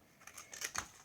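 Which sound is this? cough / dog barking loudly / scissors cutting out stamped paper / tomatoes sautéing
scissors cutting out stamped paper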